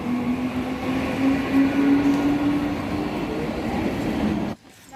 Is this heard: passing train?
yes